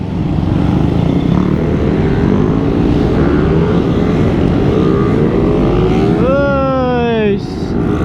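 A group of Suzuki Raider R150 motorcycles rides by on a Davao road, a loud, continuous engine roar with one bike's exhaust note rising sharply near the end before dropping away.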